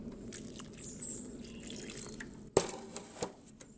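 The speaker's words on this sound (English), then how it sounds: "And now we add some water." Water poured into a sand and bentonite mix for casting green sand: quiet trickling and dripping with a few sharper splashes and knocks partway through, close and faint, no talking.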